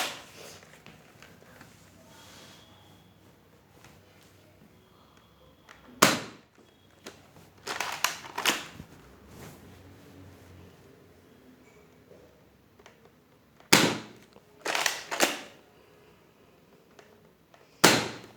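Nerf Fortnite SP-L blaster firing elite darts: sharp, loud pops spaced apart, some in quick pairs and triples, against quiet handling noise.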